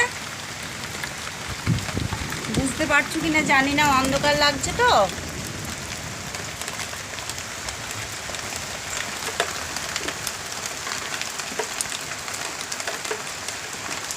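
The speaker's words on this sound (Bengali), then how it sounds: "এই যে বৃষ্টি পড়ছে" Steady evening rain patters on surfaces outdoors in a soft, continuous wash, while someone talks briefly near the start.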